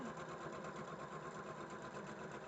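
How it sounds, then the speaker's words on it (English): A sewing machine stitches a quilt block past the seam allowance, a steady, fast mechanical whir running continuously and close at moderate volume. "Now we're gonna start past the seam allowance, stitching across down the line"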